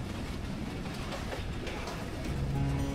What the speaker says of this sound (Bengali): ট্রেন চলেছে নীরব গতিতে